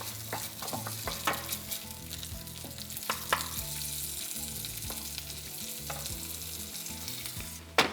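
Food for a date and chickpea tagine sizzles steadily in a pan with a pinch of salt while a utensil scrapes and stirs through it with irregular clinks, close and continuous.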